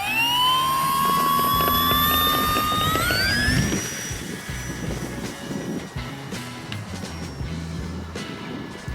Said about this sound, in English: Definitely looks like the C-150 Cessna.